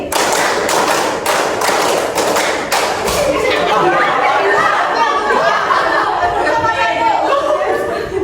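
A classroom of pupils claps in a counting clap game, with several quick rhythmic bursts of many hands at the start, then chatter and giggling children's voices fill the rest.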